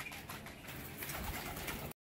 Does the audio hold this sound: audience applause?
no